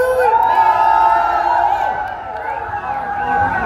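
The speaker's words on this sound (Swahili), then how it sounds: "Wapi kelele ya Stacy?" A crowd at a live radio event in Githurai cheers and shouts in a sustained, loud swell of voices and whoops that dips briefly before rising again.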